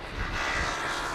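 A 14-year-old airliner arriving on runway 27 at Amsterdam Schiphol on a windy day, its engines a steady, broad roar at moderate distance with no talk over it.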